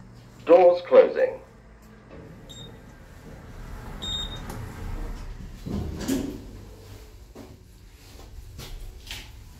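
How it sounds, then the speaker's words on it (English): Doors of a Stannah platform lift at a railway station, Northfield platform 4, sliding shut with a couple of close mechanical thuds early on and a quieter clunk later, amid faint background hum. "Doors closing."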